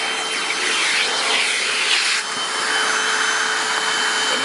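A Hoover WindTunnel Anniversary Edition self-propelled upright vacuum runs with its dusting brush attachment, a loud, steady whining roar close by that dips briefly in pitch partway through.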